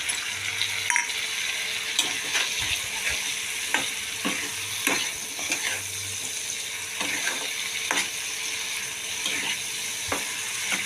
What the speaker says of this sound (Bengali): মশলা দিয়ে কষাবো ভালো করে